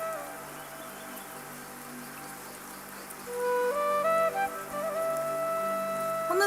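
Heavy rain pouring down in a steady, dense hiss, with a tonal melody of music coming in over it partway through.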